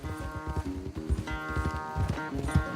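Horse galloping in a race in Red Dead Redemption 2, rapid rhythmic hoofbeats pounding close under a steady musical score, moderately loud and continuous.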